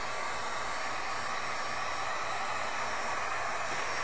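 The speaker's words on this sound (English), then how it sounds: "With a heat gun, the process of flashing takes about maybe 30 seconds to a minute" A heat gun blows a steady, even hot-air roar while flashing plastisol ink on a printed shirt, close and constant with no pauses.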